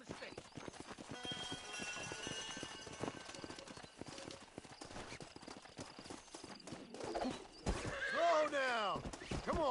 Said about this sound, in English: This steed looks right tetchy, I don't mind telling.